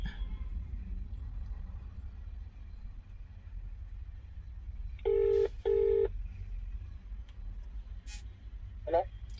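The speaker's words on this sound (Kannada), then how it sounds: "ಫೋನ್ ಮಾಡ್ತೀನಿ ಇವಾಗ ನಾನು ಅವ್ರಿಗೆ" Two short keypad tones on a phone being dialed, followed by a faint beep, over a steady low traffic-like rumble.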